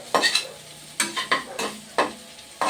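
Tomato paste is stirred into frying spices for a potoler dolma, giving several close scraping stirs with sizzling underneath and short pauses between strokes.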